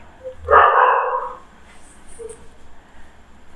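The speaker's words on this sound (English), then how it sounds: "I'm sorry for the background music of dog." A dog barks once or in a short burst at mid distance, loud for a moment and then fading, in a quiet room.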